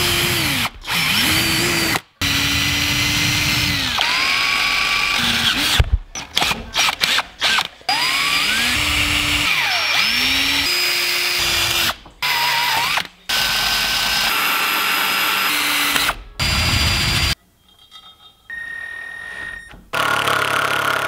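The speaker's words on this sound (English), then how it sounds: "Now I need to drill two holes in it so I can run screws into it" A power drill whirs in repeated bursts, pitch rising and falling as it bites into wood, with short pauses and clicks between runs, close and loud.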